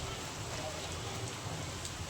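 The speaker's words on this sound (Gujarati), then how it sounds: "આવી ગયો 2023 નો પહેલો વરસાદ" The year's first rain falling as a faint, steady patter and hiss of drops on surfaces, fairly quiet and continuous with no distinct loud hits.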